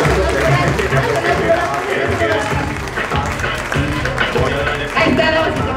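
Audience applause at a clown show, loud dense clapping from a crowd that carries on throughout, mixed with chatter and voices.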